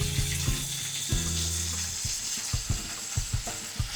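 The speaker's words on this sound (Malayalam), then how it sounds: "ഇനി ഇതിനെ ഒന്ന് ചെറുതായിട്ടൊന്ന് സോട്ട് ചെയ്തെടുക്കുക. ടൊമാറ്റോ സോസ് ഇതിലേക്ക് ഒഴിച്ചു കൊടുക്കുന്നുണ്ട്." Chicken sautéing with tomato sauce in a pan gives a steady close sizzle with scattered clicks and scrapes of stirring, over a low humming drone that fades after the first two seconds.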